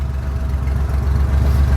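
A 1975 Jeep with an EFI Dauntless V6 engine idles: a steady, loud, close low rumble that holds even throughout, with no voices.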